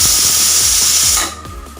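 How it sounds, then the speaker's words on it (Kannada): A pressure cooker whistles while a vegetable and tamarind stew cooks: a loud, steady jet of steam hiss runs for over a second, then cuts off sharply and leaves a softer hiss behind. "ಇವಾಗ ಕುಕ್ಕರ್ ವಿಸಿಲೆಲ್ಲ ಕೂಗಾಗಿದೆ"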